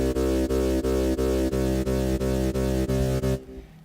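Stutter effect on the Helm free software synth chops a sustained, harmonically rich tone into rapid even slices, about ten evenly spaced gaps in a steady rhythm, before it cuts off to near silence at the end.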